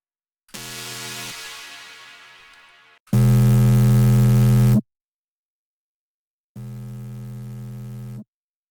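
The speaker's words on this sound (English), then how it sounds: "I believe it's the main sub within the song. So I just bounced it out and then I just slapped on a ton of reverb." Deep sub bass from a track, bounced out and drenched in heavy reverb, plays as three separate sustained tones with silent gaps between them; the middle one is the loudest and fullest.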